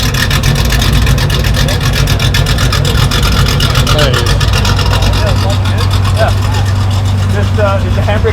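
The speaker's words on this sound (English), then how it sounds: "Yeah, listen to this." Manual car engine revving steadily and loudly, a continuous throaty drone throughout, with people talking over it.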